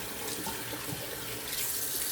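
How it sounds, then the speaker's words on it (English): Water runs steadily from a tap, rinsing off soap lather in a sink, a continuous soft splashing hiss, fairly quiet and close, with no voices. "let me rinse off real quick"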